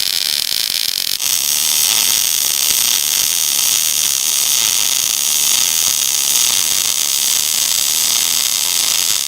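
MIG welding an overhead joint, a loud, steady, crackling sizzle that starts abruptly after a second and runs unbroken to the end.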